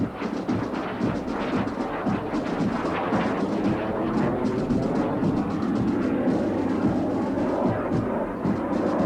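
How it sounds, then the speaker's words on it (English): Military training aircraft performing a barrel roll at a graduation parade flypast, a loud rumbling engine roar sustained overhead with a broad, rolling texture, no speech. "Flight Lieutenant Chase is currently executing a barrel roll."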